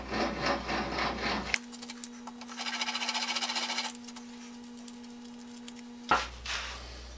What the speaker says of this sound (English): I'm going to countersink the holes.